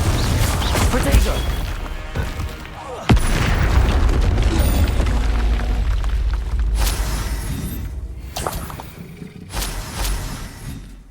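Spell blasts and crashes from Hogwarts Legacy boom and smash almost nonstop under a player's voice, with a sharp loud hit near the three-second mark and dense layered impacts throughout.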